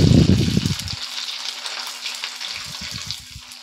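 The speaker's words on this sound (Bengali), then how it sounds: "হালকা করেই ভেজে তুলে নেব।" Food fries lightly in shallow oil for semolina pulao, giving a soft, steady sizzle, with heavier low clattering bursts at the start and again near the end.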